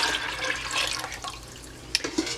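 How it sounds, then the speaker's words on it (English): Room-temperature sugar water pouring into a plastic fermentation bucket for fruit wine, a close, continuous splashing gurgle with a couple of brief drips and sloshes near the end. "we're going to go ahead and add our sugar water into our fermentation bucket"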